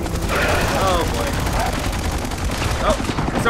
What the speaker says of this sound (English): we're gonna run into the gunfire and be fine